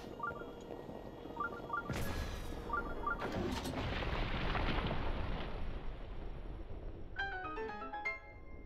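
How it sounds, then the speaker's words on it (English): Cannon firing in the video game The Legend of Zelda: Breath of the Wild, two loud booming blasts in quick succession with a rumbling tail, set among chiming game tones that return near the end. "We need the cannon in order to blow up"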